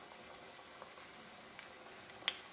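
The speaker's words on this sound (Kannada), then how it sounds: "ಇದನ್ನ ಎಣ್ಣೆಯಲ್ಲಿ ಡೀಪ್ ಫ್ರೈ ಮಾಡಿ ಎಣ್ಣೆ ಬಿಸಿಯಾಗಿದೆ ಈಗ ಒಂದೊಂದೇ ಬೋಂಡವನ್ನ ಹೀಗೆ ಬಿಡ್ತಾ ಬನ್ನಿ" Fenugreek leaf vada batter balls deep frying in hot oil, a soft steady sizzle and bubbling with faint crackles and a couple of small pops, fairly quiet and without talk.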